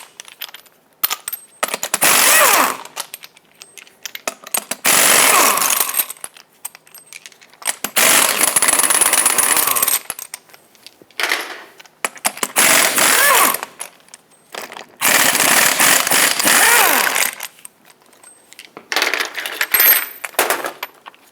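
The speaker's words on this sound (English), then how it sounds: "I need a special socket adapter to take these lug nuts off" Lug nuts on a RAM 2500 front wheel are spun off with an impact gun and socket adapter, giving loud rattling bursts of a few seconds each, repeated about six times with short pauses between.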